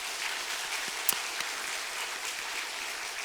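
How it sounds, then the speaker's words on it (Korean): Church congregation applauding during a Sunday service, soft, distant, steady clapping with a few sharper individual claps, fairly quiet throughout. "감사와 영광의 박수 올려드릴까요?"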